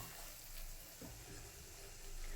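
A coconut, garlic and ginger paste sautéing in a pan gives a steady, soft sizzle throughout, faint and continuous with no voices.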